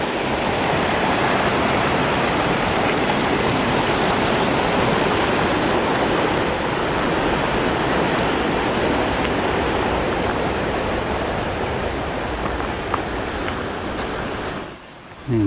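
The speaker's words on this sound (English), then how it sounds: "I'm coming to this second bridge over the creek here." A mountain creek rushes beneath a trail bridge in a steady, loud broadband roar of flowing water, continuous throughout and dropping away abruptly near the end.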